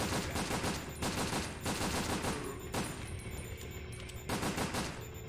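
Rapid gunfire in Resident Evil: Dead Aim on PS2 crackles in loud, sustained bursts, dense automatic shots with a brief break midway before resuming.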